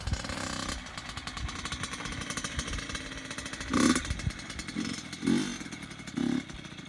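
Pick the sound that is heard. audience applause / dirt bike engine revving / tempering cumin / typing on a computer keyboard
dirt bike engine revving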